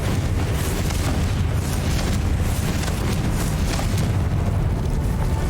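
A Confringo fire spell explodes in Hogwarts Legacy with a loud, dense booming blast. It is a continuous roar of explosive rumble and crackle, heavy in the low end, sustained across the whole stretch with no voices over it.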